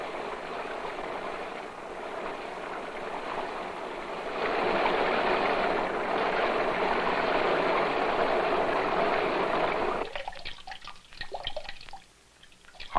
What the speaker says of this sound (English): Harmony may be a pleasing interplay of the sounds we hear, as in the drip, trickle, and fall of water.